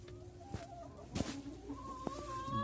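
Chickens cluck softly and intermittently at a short distance, with a few sharper calls over a steady background hum.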